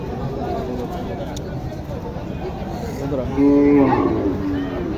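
Cattle lowing at a busy Bangladeshi village livestock market held before Qurbani, with a loud moo near the end over a constant din of talking buyers and sellers.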